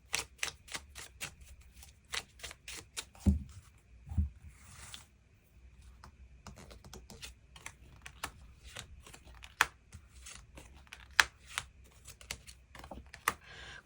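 Tarot cards are shuffled and drawn, giving a close series of soft, crisp card flicks and taps in irregular bursts, with a few duller thumps and short pauses between.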